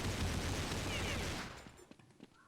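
Gunfire from a pistol in the video game Counter-Strike: a loud, dense burst of shots for the first second and a half, then a few sparse, fainter cracks trailing off.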